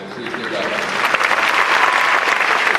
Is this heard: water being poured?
no